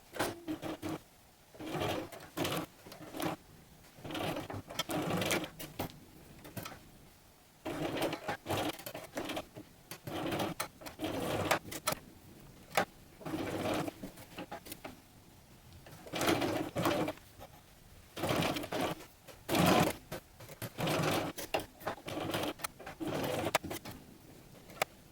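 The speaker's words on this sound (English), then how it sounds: "So this one I'm going to sew without pinning, which you'll see when I'm at the sewing machine" A home sewing machine stitches fabric pieces for a DIY dog snuffle mat without pins, running in repeated short bursts of steady mechanical whirring separated by brief pauses, close and fairly quiet, with no talking.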